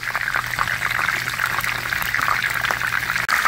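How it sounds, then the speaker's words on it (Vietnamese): Three chicken thighs frying in a pan of hot cooking oil, a steady close sizzle and crackle that hisses continuously with a low hum underneath and no talking. "đi cho dầu ăn vô, đợi dầu ăn nóng, đi cho 3 cái đùi gà vô,"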